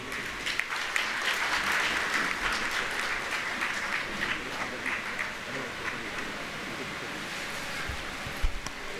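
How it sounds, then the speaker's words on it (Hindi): Dense, steady applause from an audience at the inaugural function of a homeopathic camp in Haridwar, filling the whole stretch with continuous clapping at fairly close range. "एक अच्छी सी ताली होनी चाहिए, अभिवादन होना चाहिए"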